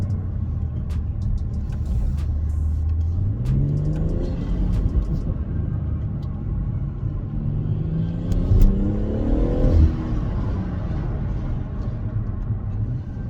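BMW M140i with both resonators deleted, engine accelerating hard: a steady deep rumble that swells into two rising revving sweeps, the second longer and louder, close and with no talk over it.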